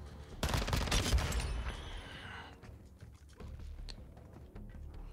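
Vel 46 (MP7) submachine gun firing in Call of Duty MW2, a loud rapid burst in the first couple of seconds, then quieter scattered clicks and game noise.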